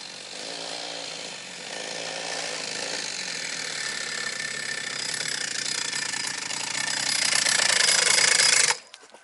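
A homemade scooter's small engine runs close by with a loud, raw buzzing drone that climbs gradually in pitch and intensity before cutting off abruptly near the end.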